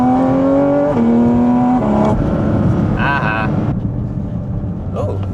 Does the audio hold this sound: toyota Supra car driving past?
yes